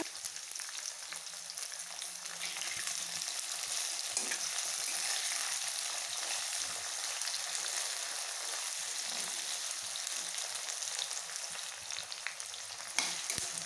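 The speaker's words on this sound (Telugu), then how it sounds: "ఇందులో మనం ఉల్లిపాయలు వేసుకొని ఇవి కూడా బాగా ఫ్రై చేసుకోవాలి" Onions frying in hot oil with chilli and curry leaves for brinjal fry, a steady dense sizzle close by and continuous throughout, with faint stirring scrapes.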